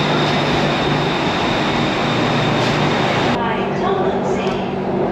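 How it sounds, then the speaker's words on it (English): A Bangkok SkyTrain carriage hums and rumbles with a steady, loud broadband roar of the moving train, which drops slightly in level near the end as it runs. "It's always a great day when you ride the SkyTrain."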